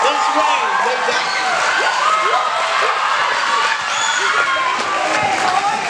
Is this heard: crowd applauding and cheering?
yes